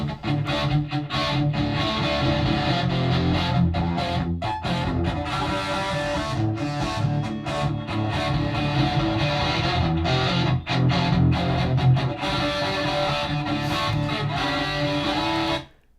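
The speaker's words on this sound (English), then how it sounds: "That does actually sound fairly similar to running an overly hot guitar into tape without any real conditioning or modifying it." A hot guitar signal driven into tape with no conditioning gives a dense, saturated distortion that holds steady and loud for about sixteen seconds, then cuts off abruptly at the end.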